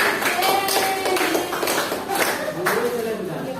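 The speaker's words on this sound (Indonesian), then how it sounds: "Tepuk tangan dulu buat kelompok Arjuna." A classroom of students claps for group Arjuna during a micro-teaching lesson, with a few uneven bursts of hand claps mixed with chatter and a teacher's voice.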